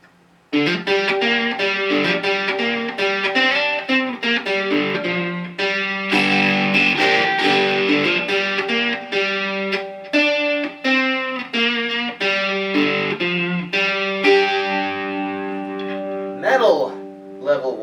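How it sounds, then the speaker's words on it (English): An electric oil can banjo plays through an amplifier's crunch distortion setting, with bright, buzzy plucked notes and strummed chords ringing continuously and loudly for the whole stretch, alone without speech. "We're going to go into some of the distortion settings on an amp"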